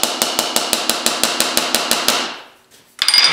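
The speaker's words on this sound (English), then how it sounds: "take the rounded end of my hammer and" About a dozen quick, evenly spaced hammer blows ring on sheet metal over a sandbag, then stop, followed by a short pause and a brief clatter.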